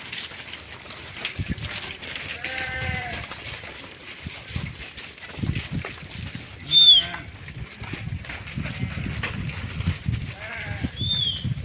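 A mixed flock of sheep and goats out on a road, with several scattered bleats from different animals, some near and one loud, over a steady outdoor background.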